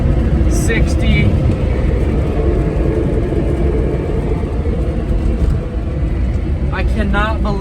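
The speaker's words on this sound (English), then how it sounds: "I cannot believe how much speed this little electric car has" A small electric car that floats speeds along at around 50 to 60 mph, a loud, steady road rumble and wind roar that runs unbroken throughout, with brief high squeals near the start and end.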